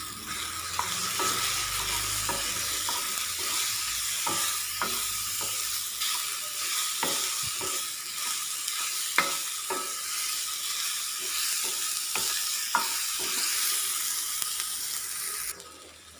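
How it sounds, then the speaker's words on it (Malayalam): Sliced plantain fries in hot ghee with a continuous close sizzle, while a spatula taps and scrapes the pan at irregular intervals throughout. "നെയ്യ് ചൂടായതിന് ശേഷം കട്ട് ചെയ്ത നേന്ത്രപ്പഴം ചേർത്ത് കൊടുക്കാം"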